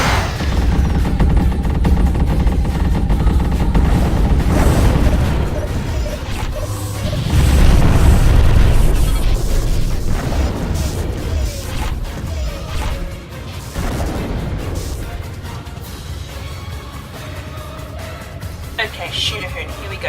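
Heavy explosions and weapon blasts in a space combat battle from the game Freespace Blue: War in Heaven, repeated booming bursts and crashes layered over continuous loud rumble, with voices talking throughout.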